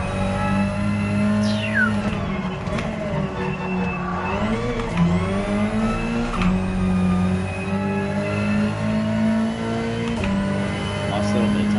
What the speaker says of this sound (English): Hear that blow off valve.